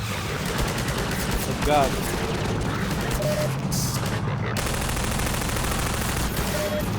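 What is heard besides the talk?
gunfire from enemies in video game Half-Life 2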